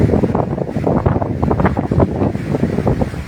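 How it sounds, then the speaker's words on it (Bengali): Strong wind gusting over a river in Bhola as the waves rise, loud buffeting rumble against the microphone with fluctuating surges and a wash of water underneath, no talk. "বাতাস খুব দ্রুত বইছে এবং বাতাসের সঙ্গে সঙ্গে আপনার ঢেউগুলো অনেক বেড়েই চলেছে।"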